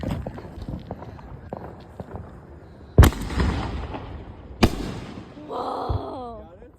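Fourth of July fireworks burst close by: two sharp, loud bangs about a second and a half apart rise over a low outdoor rumble, and voices and a brief squeal follow near the end.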